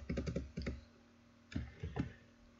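Rapid clicks of computer keyboard keys as Chinese WuBi codes are typed, a quick burst of keystrokes, a pause, then a second shorter cluster of taps followed by quiet.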